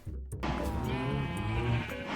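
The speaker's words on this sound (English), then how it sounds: "Lime sheep." A Minecraft sheep bleats in a wavering, drawn-out call during shearing, close and clear over faint background sound, with no talking.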